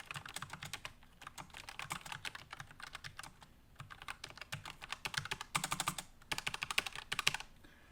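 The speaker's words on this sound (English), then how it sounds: "So I'm going to just type on here a little bit." Close, quiet tactile mechanical keyboard typing on a Logitech MX Mechanical, with muted keystrokes in steady bursts and brief pauses between runs. No one speaks.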